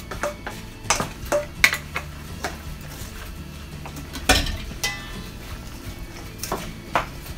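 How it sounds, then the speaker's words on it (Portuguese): Chicken salad ingredients are stirred in a large bowl with a utensil, producing repeated light clinks and scraping taps against the bowl, close and moderately quiet against a faint background hum. "Aí aqui eu continuo misturando os ingredientes, já coloquei tudo"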